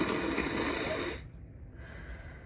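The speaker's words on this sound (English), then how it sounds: "let me blow my nose" A woman with allergies blows her nose in one forceful, noisy burst lasting about a second, then quieter breathing continues close to the microphone.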